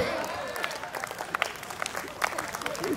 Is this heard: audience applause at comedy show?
yes